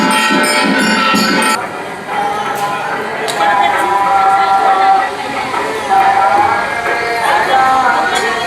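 A dense crowd murmurs and chatters at Hanuman Gadi temple in Ayodhya, with several voices talking close by over a constant bustling din.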